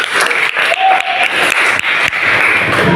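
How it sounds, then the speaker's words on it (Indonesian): A classroom of students applauds together in a burst of dense, close clapping that lasts a few seconds, with some voices mixed in. "Tepuk tangan untuk kita semua."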